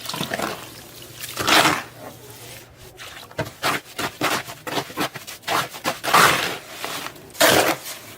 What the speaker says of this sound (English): and now I will add the water.